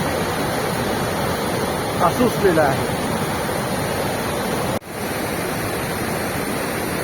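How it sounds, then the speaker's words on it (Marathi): A foaming mountain stream in Turtuk village, Ladakh, rushes in a wild torrent toward the Shyok river, a loud, steady roar of churning water throughout, with a voice briefly talking over it. "हा सगळा फेसाळणारा पाण्याचा लोंढा हा शौक नदीकडे वाहण्यासाठी"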